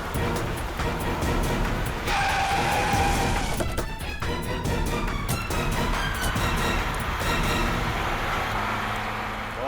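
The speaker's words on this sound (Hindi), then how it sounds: "ये नेहा तो गाड़ी भगाने लगी।" A car races off in a chase, its engine noise strong and close with a rising tonal squeal partway through and bursts of rattling clatter, loud and continuous throughout.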